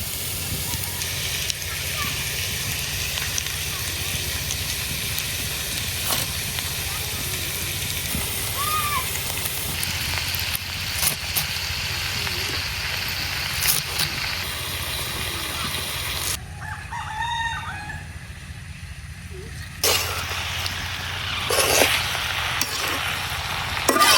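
Spinach goes into a pan of fried potatoes, giving a steady hiss and sizzle underneath a person talking throughout, with a brief quieter stretch partway through.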